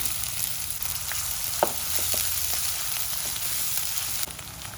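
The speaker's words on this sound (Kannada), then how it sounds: "ಒಂದು ಮೂರಿಂದ ನಾಲ್ಕು ಸ್ಪೂನ್ ಎಣ್ಣೆ ಜೊತೆ ಈರುಳ್ಳಿ ಹಾಕೊಂಡು ಫ್ರೈ ಮಾಡ್ಕೊಳ್ತಾ ಇದ್ದೀನಿ" Onions fry in three to four spoons of oil alongside chopped chicken liver and gizzard, a quiet continuous sizzle with a few sharp ticks and light stirring taps, nobody talking.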